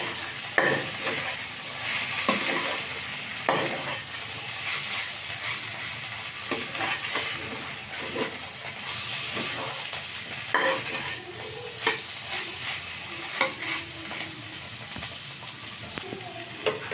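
Spiced watermelon peel stir-fried in a pan, with a steady sizzle under repeated scraping and clacking strokes of a spatula against the pan, close and continuous throughout, with no speech.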